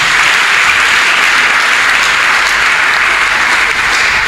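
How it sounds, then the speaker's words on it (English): A church congregation applauding, a loud, dense, sustained burst of many hands clapping together that holds steady for several seconds without speech. "Can we clap for Master Jesus for that word of prophecy?"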